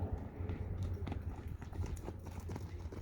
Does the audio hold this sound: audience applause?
no